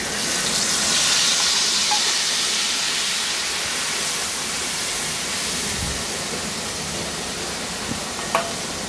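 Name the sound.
spice paste frying in oil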